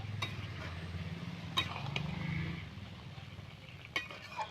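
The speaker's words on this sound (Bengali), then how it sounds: "ঢাকনাটা তুলে নেড়ে চেড়ে দিচ্ছি" After the lid comes off, cauliflower stems and vegetables in a Bengali vegetarian curry are stirred in a pot: soft scraping and a few metallic clinks of a spoon over a faint low simmer.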